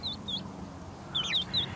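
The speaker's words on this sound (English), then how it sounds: "We have some chicks." Young chicks of fluffy chickens give high, thin peeping chirps in a few short bursts, one pair early and a cluster later, faint and close over a low background hum.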